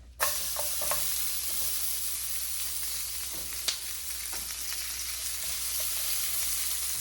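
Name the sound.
peppers sizzling as they are added to a hot pan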